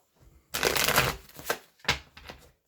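Wildwood Tarot cards are shuffled close up in a long riffling burst, followed by a few shorter rustling shuffles, all alone with no talk.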